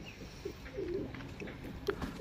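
Kept pigeons or doves cooing in an aquaponic farm setting, several soft low coos scattered over a quiet outdoor background, fairly faint and near.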